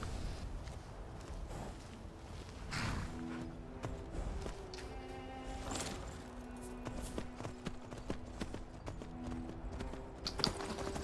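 Horse hooves clip-clopping in the video game Skyrim on a farm, a steady mid-level walking rhythm mixed with in-game ambience, music-like tones and occasional clatter, with no talking.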